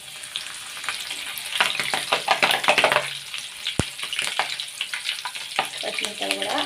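Green chillies frying in hot oil in a pan crackle and spit loudly, with sharp pops and bursts of clatter over a continuous sizzle and one hard knock partway through.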